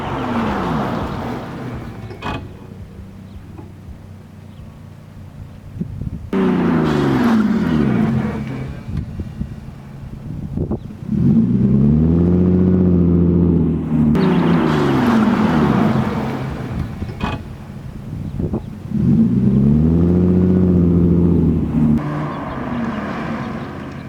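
A Lexus IS300 fitted with R1 Concepts brakes drives on a closed road, engine rising in repeated surging pulls with harmonic sweeps, easing off between runs, loud and close with no talk.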